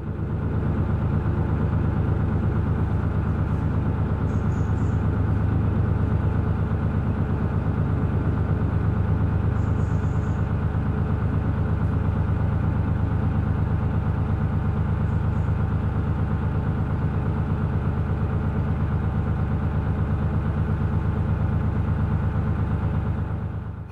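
A narrowboat engine ticks over slowly on a canal, a steady low diesel throb with even mechanical chatter, close and continuous with no talking.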